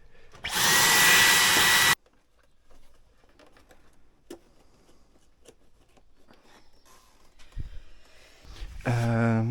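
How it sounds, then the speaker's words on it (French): A small vacuum cleaner whirs during work on a Citroën C4 Cactus, with a loud, steady hiss-roar burst near the start, quiet handling noises after, then the motor spins up again with a rising whine at the end. "C'est un petit aspirateur."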